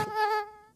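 A mosquito in a Hindi TV commercial buzzes in one close, whining tone that drifts in pitch, loud at first then fading away within a second, with no voices over it.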